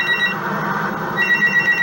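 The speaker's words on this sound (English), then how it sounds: "Answer the damn phone" A telephone rings in a room, its electronic bell trilling in two close bursts with a short gap between them, clear and fairly loud with no one talking.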